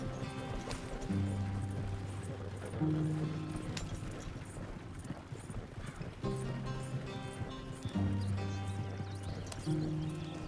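Rhythmic clip-clop of horses' hooves at a quick gallop in the video game Red Dead Redemption 2, steady and close, over a bed of low rumbling noise.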